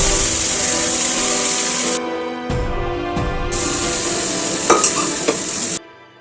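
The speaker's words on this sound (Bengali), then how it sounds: "কড়াইতে তেল গরম করে এখানে সব গোটা মশলা ফোড়ন দিয়ে তার লঙ্কা আর টমেটোটা গ্রেট করে রেখেছিলাম, সেটাও ভালো করে দিয়ে কষিয়ে আলুর দমটা এখানে বানিয়ে নিচ্ছিলাম।" Aloo dum cooks in a kadai with whole spices, chilli and grated tomato, a loud close hiss of frying and stirring that cuts out in short breaks before resuming, with a few scraping knocks near the end.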